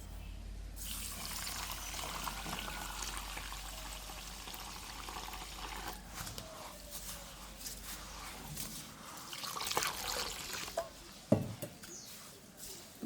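White sesame seeds are washed in water, with a continuous swish and slosh of water and small splashes and clinks near the end.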